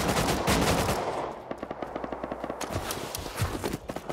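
Machine gun fire erupts in rapid, loud bursts during a Rust console raid, sustained automatic shots rattling close with a dense roar at first, then distinct rapid cracks.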